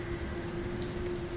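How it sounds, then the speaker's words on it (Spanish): Rain falls as a sound effect in a Spanish horror story narration, a steady, dense hiss of drops with a faint tonal hum beneath. "La lluvia chocaba contra nuestros cuerpos, pellizcando la piel."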